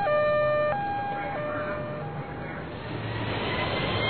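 A loud electronic two-tone siren wails in stepped pitch changes, then fades into a steadier hum of traffic-like noise.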